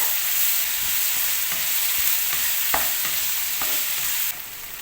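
Chopped onion and tomato sauté together in a pan, making a constant, close sizzle. Spoon stirs scrape and tap against the pan at an uneven rhythm.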